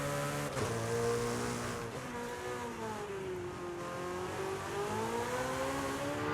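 Car engine from the Forza Horizon racing game, heard as a steady, loud revving drone whose pitch rises, dips and climbs again as the car accelerates through gears, with no talking.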